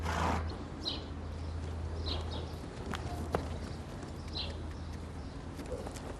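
Horse hooves clip-clop in a loose, unhurried rhythm at a moderate distance, with faint bird chirps and ambient outdoor noise.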